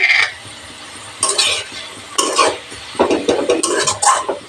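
Potatoes and fenugreek leaves for Punjabi aloo methi are stirred together in a pan: close, loud bursts of scraping and sizzling with each stroke of the spoon, separated by short quieter pauses, with no talking.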